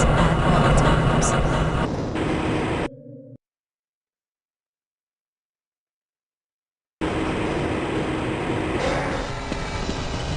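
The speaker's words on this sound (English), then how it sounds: "This train is inbound from the Area 8 topside dormitories to the Central Transit Hub in Area 9." Inbound transit train in the Half-Life Blue Shift game, a loud rumbling rail ride with clanking and rattles, broken by a short low tone and several seconds of silence before the rumble resumes.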